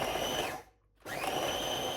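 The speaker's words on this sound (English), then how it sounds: "she's going to give it a good whisk up" Butter and sugar being beaten together for cupcake batter give a steady, close, whirring motor drone, which drops out for a moment midway and then resumes at full strength.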